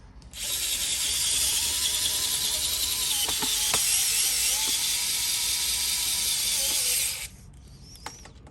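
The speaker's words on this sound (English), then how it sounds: "I think I'm almost out of juice on my screwdriver here, but we'll give it a go." A Vessel electric screwdriver with a nearly drained battery runs steadily for about seven seconds at close range, a continuous whine with faint clicks and taps over it, then stops and leaves near silence.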